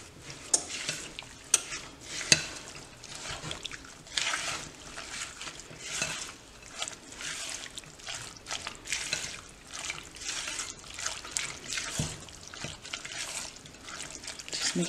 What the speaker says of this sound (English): And you just mix those first ingredients together.